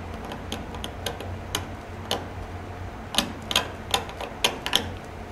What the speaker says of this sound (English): So I use the big knife to cut this.